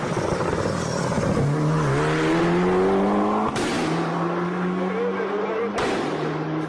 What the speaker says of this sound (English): Those clips you heard of those pop and bang maps on those M140i's